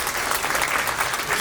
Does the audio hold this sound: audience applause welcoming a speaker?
yes